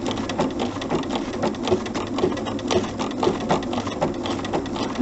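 A sewing machine stitches appliqué fabric in a steady, rapid mechanical whir with a rhythmic needle clatter, close and continuous with no talking.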